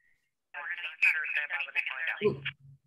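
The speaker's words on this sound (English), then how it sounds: "Could you mute your phone because we're hearing your, you know, CB radio." Chattering CB radio comes through a meeting participant's phone as band-limited, garbled speech-like bursts that crackle in and out, with a low voice breaking in near the end.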